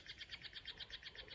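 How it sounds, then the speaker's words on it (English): A small bird chirps in a quick, steady run of about a dozen bright, high notes near a greenhouse where robins are about. The calls are close and clear, over a soft background hum, with no talk. "I got one little bird kicking around,"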